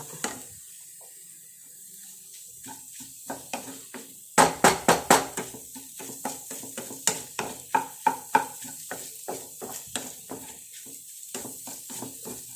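Egg and spinach stir-fry being stirred in a pan, with a spoon scraping and tapping in a steady run of sharp clicks over a faint sizzle. The strokes grow louder and quicker partway through.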